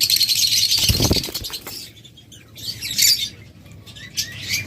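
Budgerigar pairs chirp in short, high twittering bursts at a bird sale, with some flutter and rustling and quieter gaps between the calls.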